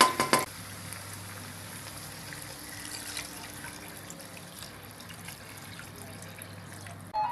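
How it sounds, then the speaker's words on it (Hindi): About a litre of hot water goes into a karahi of browned Peshawari mutton charsi karahi, a steady close hiss and gush after a brief clatter at the start, carrying on over a low kitchen hum. "अब इसमें पानी डाल लेंगे। 1 लीटर हम पानी डालेंगे।"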